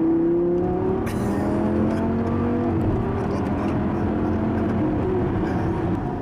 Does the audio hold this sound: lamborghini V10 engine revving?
yes